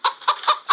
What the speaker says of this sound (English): I had to bring some chickens up in here.